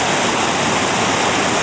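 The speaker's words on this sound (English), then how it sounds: "Okay, and here's the waterfall again." A small waterfall on a flooded creek roars steadily and close, a dense continuous rush of falling water with no break or voices over it.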